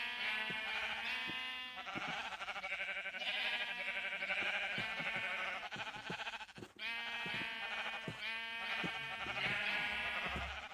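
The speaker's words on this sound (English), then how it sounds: "we're going to throw all 23 sheep" Flock of sheep in the Minecraft modpack All the Mods 10 bleating over and over, many overlapping nasal calls close by and loud, with brief thumps and clicks between them.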